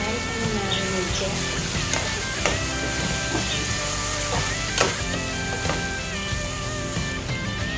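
Chicken breast sizzling and frying in a pan, a steady loud crackle with scattered sharp pops and stirring clatter throughout.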